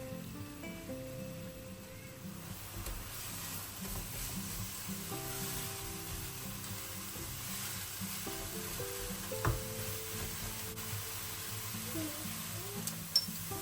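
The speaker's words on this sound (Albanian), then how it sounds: "Vazhdojmë të skuqim qepët duke i përzier her pas here në temperaturë mesatare." Finely chopped onions fry at medium heat in a pan, giving a low steady sizzle with occasional clinks and scrapes of stirring, close and fairly quiet throughout.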